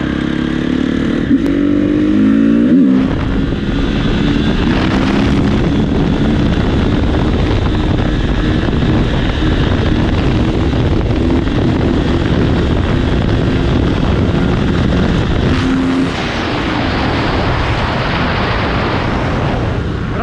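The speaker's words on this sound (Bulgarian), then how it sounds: "Има много вятър" Loud, constant wind roar buffeting a microphone, a heavy rumbling rush that barely lets up, with a motor drone underneath.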